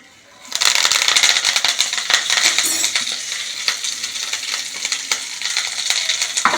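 Tamarind and curry leaves dropped into a hot pan, erupting into loud, steady sizzling and crackling with sharp spitting pops throughout, close and alone after a quiet start.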